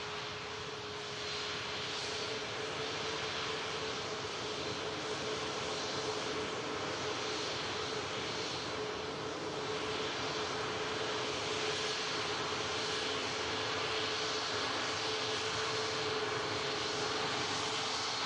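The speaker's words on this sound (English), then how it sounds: "We have the ITA Airways on final approach as well." An ITA Airways airliner arriving from Milan roars on final approach at Manchester Airport, a steady, broad engine rumble and whine that holds level for the whole stretch at moderate distance.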